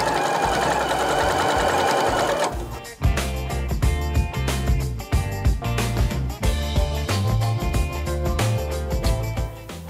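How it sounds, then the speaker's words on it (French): A domestic sewing machine stitches the length of a zipper on a quilted toiletry bag, first with a brief back-and-forth lockstitch and then a loud, continuous rhythmic whirr of rapid needle strokes close to the microphone. "Je commence par un point d'arrêt et je couds sur toute la longueur"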